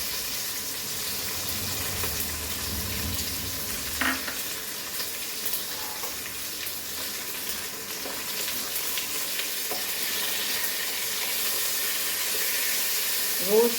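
Cashew nuts and lentils roasting in a pan over a low flame give a soft, steady sizzle and hiss throughout, with a few faint stirring scrapes and small pops. No one speaks.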